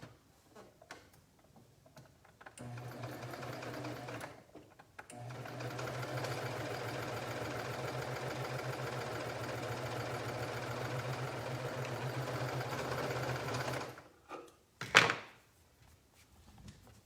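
A sewing machine runs a long continuous seam on leggings, its rapid mechanical whir steady and close for about nine seconds, with short bursts before and a brief clatter as it stops.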